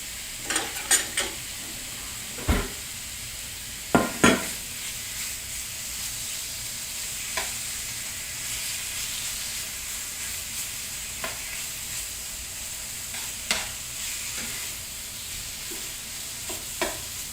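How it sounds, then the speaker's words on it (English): Seasoned chicken pan-fries in hot oil with a steady close sizzle, punctuated by sharp scraping and stirring clicks from utensils against the pan. "So we're going to quickly pan fry it."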